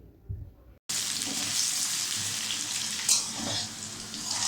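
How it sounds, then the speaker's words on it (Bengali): Potatoes frying in oil in a wok, where a near, loud, steady sizzle bursts in abruptly after a brief quiet moment and continues without pause, with a small flare of crackling partway through. "আলুগুলোকে ভেজে নেব"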